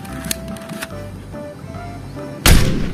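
A toy sniper gun fires a single sharp, loud crack near the end, preceded by soft mechanical whirring and clicking from the toy.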